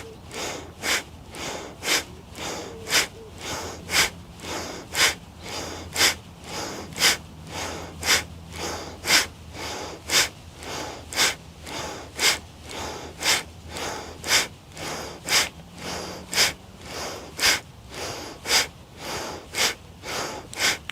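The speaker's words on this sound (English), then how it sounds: "it's a continuous active breathing" Continuous active breathing exercise during a gentle adaptive yoga class: sharp, forceful breaths repeat at a steady rhythm, roughly one per second, loud and close for about twenty seconds without talk.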